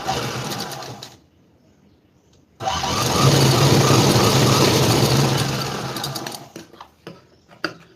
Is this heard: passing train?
no